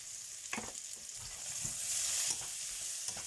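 Garlic sizzles in a pan for fried rice, a steady hiss of frying with scattered stirring scrapes and a swell in the sizzle partway through, no talking.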